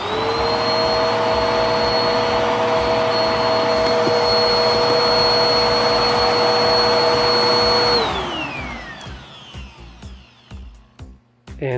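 A Bissell PowerLifter upright vacuum cleaner, freshly fitted with a new drive belt, runs with a loud steady whine and motor hum for about eight seconds, then winds down as it switches off, leaving a few faint knocks and handling sounds.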